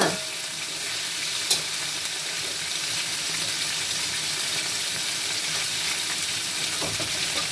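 Steady sizzling of chicken wings frying in a pan, a constant hiss with a couple of brief clinks or stirring knocks, no voices.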